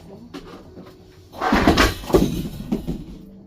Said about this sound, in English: I've just slammed a basket in